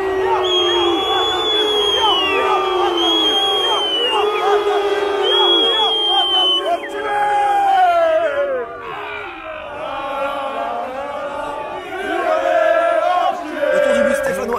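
Football supporters gather in the rain before the Saint-Etienne versus Lyon derby and chant loudly as the players arrive, with sustained sung cries and cheers from a large nearby crowd.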